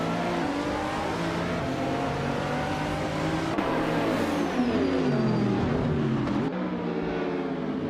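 In a video game, race cars including a 2012 Subaru BRZ launch at the start of a race at Croft Club A, with engines revving and rising in pitch in a loud, layered roar of several cars.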